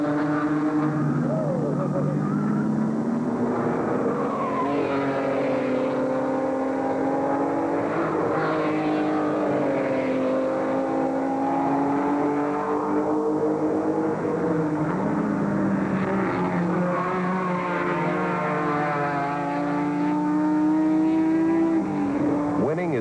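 Datsun race cars battling for third place in an auto race, engines droning loud and steady with rising and falling pitch as they rev and pass, continuous throughout.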